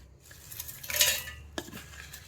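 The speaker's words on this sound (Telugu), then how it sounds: "ఒక మిక్సీ జార్ తీసుకొని వేయించి పెట్టుకున్నవన్నీ వేసుకోవాలి" Roasted Nalleru (Hadjod) chutney ingredients tumble from a plate into a steel mixer jar with clinking, scraping clatter in two short bursts, close and fairly loud.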